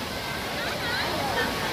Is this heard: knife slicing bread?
no